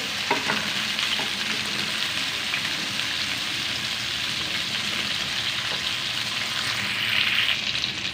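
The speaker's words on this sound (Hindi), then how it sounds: "तो गोभी को यहाँ पे फ्राई कर लेंगे जब तक इसका कलर न चेंज होता है" Cauliflower pieces fry in hot oil in a pan for gobi chicken, giving a steady, close sizzle throughout with a few faint stirring clicks and no talking.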